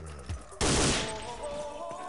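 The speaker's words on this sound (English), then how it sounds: "God, they got an MG on the roof." A machine gun fires from a rooftop in DOD, a sudden loud, close blast of automatic fire that erupts after a quiet moment and decays into a ringing, rumbling tail.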